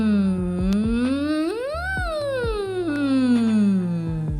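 Voice singing through a narrow straw, sliding smoothly up to a high peak and gliding back down, a muffled, hooting, siren-like tone, close and alone over a soft steady backdrop.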